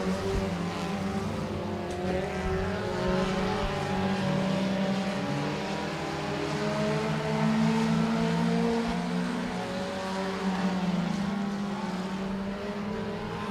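Front-wheel-drive four-cylinder race cars roar around Boothill Speedway during a heat race, a continuous loud blend of revving engines rising and falling as the pack passes, with no talk.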